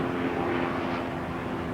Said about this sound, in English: Oh, wait for this helicopter.